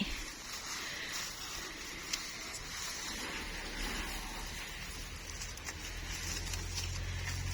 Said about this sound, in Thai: ฝนลงเม็ดโปรยปลายแล้วค่ะ ตอนนี้